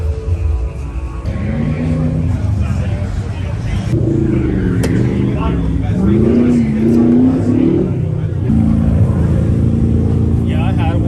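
A car revs and accelerates at an autocross event during an outdoor car show, engine note rising and falling in wavering sweeps over a constant rumble, with people talking nearby.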